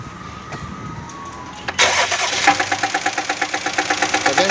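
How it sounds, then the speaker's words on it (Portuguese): A Jeep Cherokee engine cranks and catches, then idles roughly with a steady, loud, rhythmic knocking pulse and uneven misfire beats, heard alone without talk. "Tem um barulho de falhado e tá escutando, ó, o barulho de martelete."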